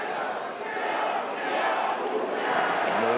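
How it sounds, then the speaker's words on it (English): A crowd at a men's water polo match between Hungary and Brazil on Margaret Island in Budapest keeps up a steady, swelling roar, with a commentator's voice over it. "More noise generated by this crowd on Margaret Island."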